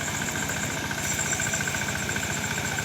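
A tractor engine runs steadily while ploughing a muddy rice paddy, a continuous mid-pitched drone with a rapid low throb and a faint high whine, constant in loudness throughout.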